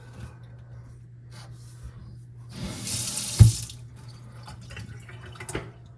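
Water running from a tap into a sink during a plumbing repair, a faint trickle that swells into a louder gush midway, with drips and small knocks before it eases off again.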